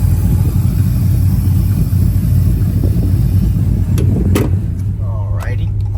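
A cammed 5.7 Hemi engine in a Ram truck runs at partial throttle, giving a loud, steady, deep rumble throughout with a few sharp clicks near the end.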